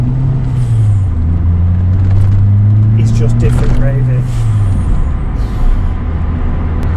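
A Ford Escort MK3 RS Turbo engine drones steadily from inside the car while driving, its pitch climbing then settling back down, with someone talking over the engine throughout.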